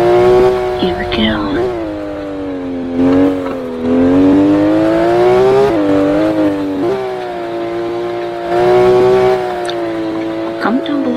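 A Roblox Vehicle Legends car revs steadily through a lap, its engine loud and close, the pitch rising and falling as it speeds up and slows down. Brief squeaks cut in, and someone talks over it.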